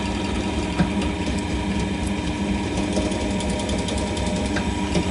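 A Cormak ZX 7045 milling machine drilling with a blunt drill whirs with a steady, rough grinding drone, continuous and close, with small irregular clicks over the top.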